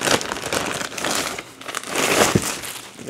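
Crinkly plastic clothing packaging, its zipper broken, is crumpled and torn open at close range, giving a dense, continuous rustle with sharper crackles and brief louder bursts throughout.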